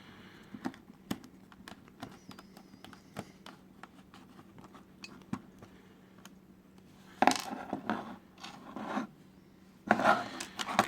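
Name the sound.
opening a Game Boy Game Pak cartridge with a special screwdriver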